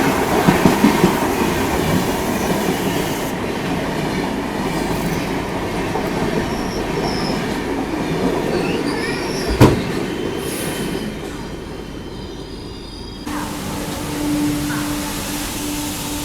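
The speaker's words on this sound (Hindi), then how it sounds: "अभी बगल से ये क्रॉस हो रही है सचखंड एक्सप्रेस नांदेड़ अमृतसर।" The Sachkhand Express, running Nanded to Amritsar, passes close alongside with a steady rolling clatter of wheels and a sharp bang partway through. A high wheel squeal rings out near the end.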